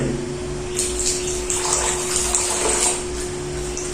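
Water pours steadily into a pot of stale soaked rice, panta bhat, in a village kitchen, a continuous close splashing gush lasting throughout with a low background hum.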